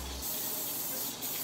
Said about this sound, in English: We're gonna spray some cooking spray on it, so these babies can be able to slide right on down